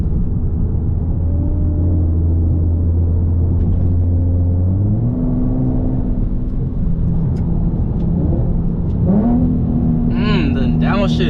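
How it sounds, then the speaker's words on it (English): Infiniti G37 coupe with a full titanium Tomei exhaust, a loud deep exhaust drone that jumps sharply in pitch as it downshifts twice, with talking over it. "These downshifts from the outside sound even crazier too."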